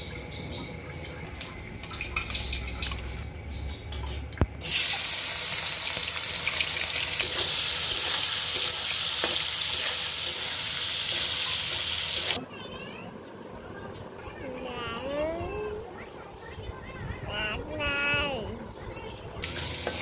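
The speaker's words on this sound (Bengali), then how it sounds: "এবার আমরা চিংড়ি মাছগুলোকে ভালো করে কষিয়ে নেব" Prawns coated in salt and turmeric sizzle loudly in hot oil, a dense steady frying hiss that rises suddenly and holds for several seconds before dropping back, with talk and kitchen noises around it.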